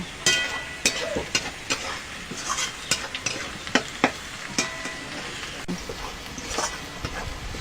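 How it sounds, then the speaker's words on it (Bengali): Onion and garlic sizzle in a pan for a desi chicken curry as a spoon stirs them, with repeated scraping clatters over a continuous fry hiss, fairly close and loud. "এবার এটা ভেজে নেব। পেঁয়াজটা মাঝে মাঝে নাড়িয়ে দেবো।"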